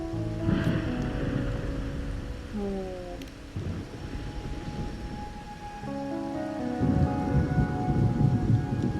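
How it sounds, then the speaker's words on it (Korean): Thunderstorm at sea in Wuthering Waves: steady heavy rain with low rolling thunder rumbles, while soft musical tones drift over the downpour throughout. "폭풍과 먹구름이 다시 한번 바다에 몰려오고"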